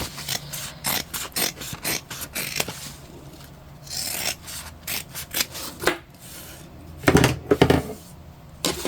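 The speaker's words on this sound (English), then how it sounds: "Trim down our seam allowances a little bit here also on the straight edges." Scissors trim fabric seam allowances on a sewn bag, giving a run of short, close snips and rustles of cloth with brief pauses, and a slightly louder burst of handling near the end.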